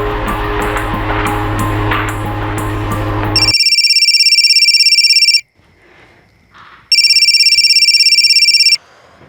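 In a Mumbai crime drama, a telephone rings unanswered: loud background music cuts off, then two separate bursts of a shrill, repeating electronic ringtone sound with a short, nearly silent gap between them.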